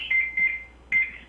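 Three short electronic beeps at a steady pitch, faint and spaced unevenly, with no voices.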